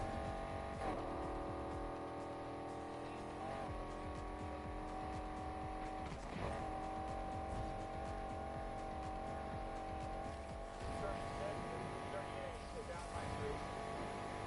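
Race cars in Need for Speed Heat on PS4 drone steadily at high speed on a test track, with engine tones shifting and occasional tire squeal, while players talk over the game audio throughout.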